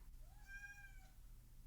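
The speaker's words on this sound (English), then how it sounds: "So you may hear some amount of pawing or meowing or zipping about" A house cat gives a single drawn-out, rising then falling meow, close and clear over a low steady background hum, with no other sounds.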